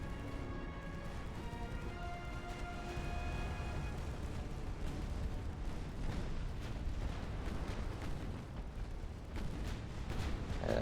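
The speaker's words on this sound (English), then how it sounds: "That's a torpedo detonation." A torpedo detonation in the naval warfare game Ultimate Admiral: Dreadnoughts: a deep, rumbling explosion roll that keeps up for several seconds under constant battle din, with no voices.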